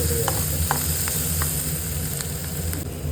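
Onions and masala frying in a pan for an intestine (boti) gravy give off a steady, close, loud sizzle, with faint scraping from stirring and no talk.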